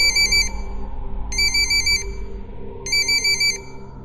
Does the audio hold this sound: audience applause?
no